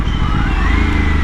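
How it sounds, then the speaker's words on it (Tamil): Aprilia RS 457 motorcycle engine pulling in first gear, a steady loud rumble with a faint whistle rising gradually in pitch throughout. "இதோட இன்ஜின் நாய்ஸ் வந்து லைட்டாக அந்த ஒரு மாதிரி அந்த விசில் சவுண்டு வர மாதிரி ஒரு ஃபீல் இருக்குது"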